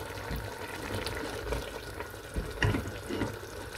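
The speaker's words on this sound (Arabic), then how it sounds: "زدت فيه واحد شويه ديال الماء غادي نخوي" Water from a pan or jug poured in beside chicken during outdoor cooking, a steady close splashing trickle with a few brief louder splashes near the end.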